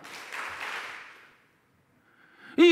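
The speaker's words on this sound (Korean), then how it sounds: "박수 3번 시작." A church congregation claps together in a burst of broadband noise that fades out over about a second, followed by silence and then a brief voice.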